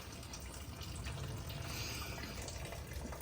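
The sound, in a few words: coolant draining out of a car radiator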